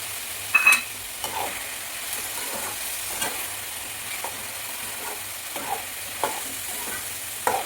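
Chana dal sizzles gently in a pan with curry leaves, a soft, steady frying hiss broken by a few quiet stirring scrapes.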